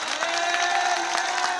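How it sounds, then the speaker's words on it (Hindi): A church congregation claps loudly and steadily, with cheering and shouts throughout, a dense crowd applause filling the room from start to finish. "एक बार जोर से ताली हो जाए सिर्फ यीशु के लिए,"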